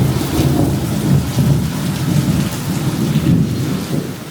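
Heavy rain pours steadily with rumbling thunder rolling underneath, a dense close wash of drops and low booms running throughout, with no voices.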